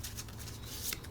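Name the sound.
shuffling Kitchen Witch oracle deck cards vertically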